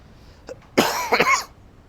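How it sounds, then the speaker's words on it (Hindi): A single harsh, close cough burst after a small throat sound, short and loud against a quiet background. "पढ़ा पढ़ा के खांसी हो गए ना"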